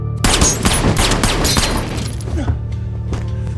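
A sniper rifle shot fired wide in a movie scene lands as a loud, sharp burst with crashing, shattering debris that quickly thins into a fading rumble.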